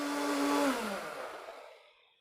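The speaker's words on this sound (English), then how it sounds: "We're going to get it into a blender." A blender purees homemade tomato sauce with a loud, steady motor whine that drops in pitch and winds down to silence.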